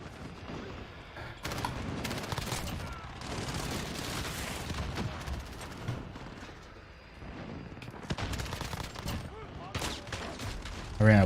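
Rapid gunfire in the video game Modern Warfare, including a Jak-12 shotgun with dragon's breath fire rounds, loud overlapping bursts and booms almost throughout, with a player talking over them.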